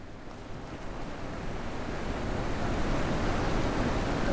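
River water in The Witness rushes as a steady, broad, close wash that grows slightly louder, with no talking.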